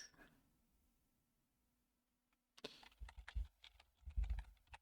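Typing on a computer keyboard: after a near-silent stretch, a burst of quick close key clicks and taps runs in an irregular rhythm to the end.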